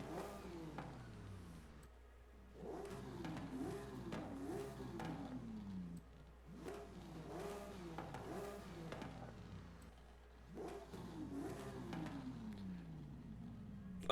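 Drift car engine with an exhaust upgrade in Forza Horizon 5, revving up and down in repeated swelling pulls with a gritty rasp, moderately faint and alone.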